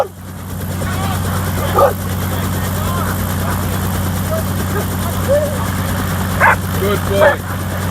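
A helicopter idles with a steady, loud engine drone and rotor hum during a dog working trials event. Occasional dog barks and a brief spoken remark rise above the drone.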